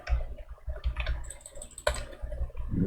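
Rapid computer mouse and key clicks while playing Final Fantasy XIV as a bard, a quick irregular run of close, soft taps.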